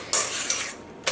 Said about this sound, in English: gonna get a whisk together. So hopefully it'll mix